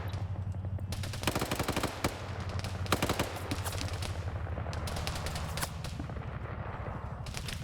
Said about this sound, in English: The machine gunners cut another one down.